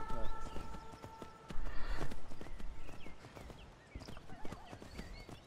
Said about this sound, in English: Get on the damn well-placed horse.